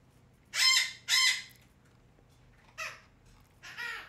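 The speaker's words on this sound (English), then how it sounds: "My bird has a lot to say, by the way." A pet bird calls out with two loud, close squawking calls, then two shorter, softer calls after a pause, over quiet background hum, with no talking.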